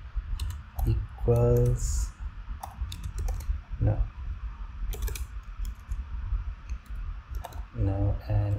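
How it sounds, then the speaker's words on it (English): Typing a configuration on a keyboard for a Kali NetHunter setup on an Android device, with scattered quick key clicks in short bursts, close by, while someone talks over them. "So let me type the configuration."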